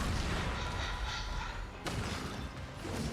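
A shooting attack in the video game Honkai Star Rail produces dense, loud booming blasts that rumble almost continuously, with a sharp impact cracking through midway.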